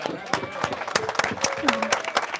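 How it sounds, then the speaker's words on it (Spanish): Applause from a crowd at the official presentation of the VOGE 900 DSX motorcycle, scattered claps over a lively background with voices talking. "señores, un aplauso ahí, hombre."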